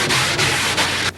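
Wooden piano parts are sanded by hand during restoration at a New York piano shop, giving three broad rasping strokes with brief pauses between them, close and fairly loud.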